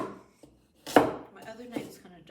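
A knife that is not meant for chopping cuts chunky carrots on a cutting board while making beef stew, giving several close, distinct chops, one sharp thud followed by lighter irregular cuts.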